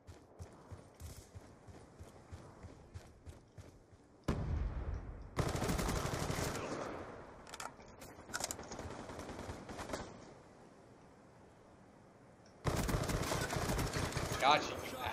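Gunfire in a first-person shooter video game, bursts of rapid shots in several loud clusters separated by quieter stretches of game ambience.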